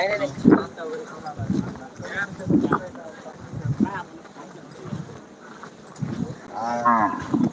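Calves at a rural bullock-cart race ground in Angapur moo repeatedly in drawn-out calls, several of them close by, while people talk nearby.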